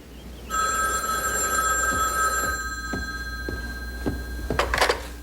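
An old-style telephone bell rings steadily in a dramatized radio play, a bright continuous trill over a low hum, with a few soft thumps and a short clatter as the receiver is picked up at the end.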